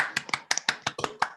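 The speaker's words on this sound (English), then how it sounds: "Can we give her a virtual round of applause?" Virtual round of applause from board of directors meeting participants, heard as a brief patter of roughly a dozen sharp, close claps in irregular rhythm, thin and sparse like a few people clapping alone.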